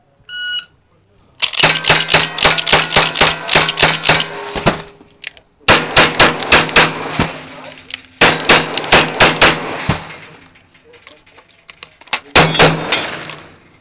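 Rapid strings of loud, close gunshots ring out during a cowboy-style shooting match stage, with brisk runs of shots broken by short pauses and a beep at the start.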